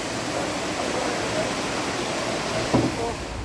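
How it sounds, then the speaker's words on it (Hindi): Floodwater rushes past after a landslide on a road in Uttarakhand, a steady roaring wash that fills the whole stretch, with a brief louder knock near the end. "ये देखो सामने से निकल रहा है भाई बहुत भयानक पानी"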